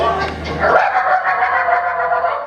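A preacher imitates a small dog yapping, voicing a quick run of high, barking yips up close, as if the animal were chasing a car tire, his voice continuing in a strained, whining tone.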